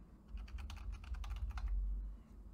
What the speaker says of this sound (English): holding the backspace key, and typing in a new name